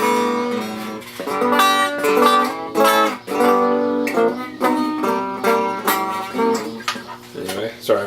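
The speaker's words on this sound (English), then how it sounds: "so you can hear the clean side of it" A clean-toned electric guitar plays through a vintage Hudson amp with a 1970s Fender Vibro Champ speaker, ringing chords and single notes in a loose, strummed rhythm, clear and close.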